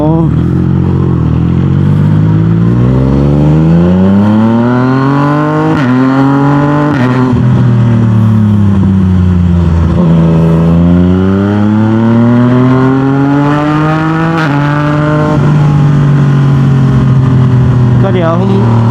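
A Yamaha MT-09 motorcycle engine warming up, a loud close rumble with repeated rising and falling revs as the throttle is blipped, the pitch swelling and dipping several times.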